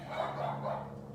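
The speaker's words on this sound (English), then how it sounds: "Sorry about my dogs." Dogs barking in a quick run of muffled woofs, somewhat distant, over a low steady hum.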